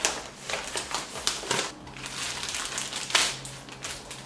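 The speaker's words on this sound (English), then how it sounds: "Plastic bag." Plastic bag crinkling while a pair of Quay x Kylie sunglasses is unboxed, a continuous rustling with sharper crackly bursts, close to the mic and fairly quiet, no voices.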